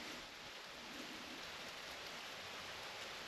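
Steady rain falls outdoors during a walk across France, a soft continuous hiss of drops with no voices, faint and even throughout.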